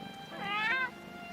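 A small stray cat gives a single clear, drawn-out meow in a 2D animated adventure, rising and falling over about half a second against quiet background.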